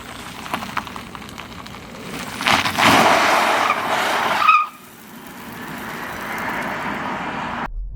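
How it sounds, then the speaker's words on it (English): An MG4 long-range Trophy electric car driving, with steady road and tyre noise that swells into a louder rushing pass in the middle, then drops back to a quieter, even hum inside the moving car. "Let's go and do the most important thing and take it for a drive."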